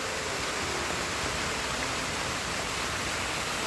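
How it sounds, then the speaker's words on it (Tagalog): Heavy rain pours down on a camping shelter in a forest, making a dense, continuous hiss that stays steady throughout, with no voices heard. "Malakas pa rin ang ulan."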